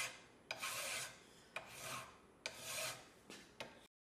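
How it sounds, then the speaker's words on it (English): A hand file rasps back and forth over a metal coupler pocket being shaped for a model locomotive tender, four close, dry strokes with short pauses between, quiet and isolated, ending in silence. "And then I finished that up with some filing."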